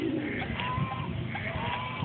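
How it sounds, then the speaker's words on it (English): Pigeons coo outdoors near ducks with low, soft, rolling throaty calls that repeat through the moment. The calls are close and moderately loud over a dull background rumble. "Look at that pigeon."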